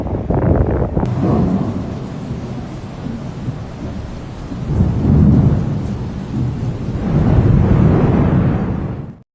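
Heavy rain pours steadily with a dense hiss over Aberdeenshire, Scotland, punctuated by rumbling thunder that swells and fades.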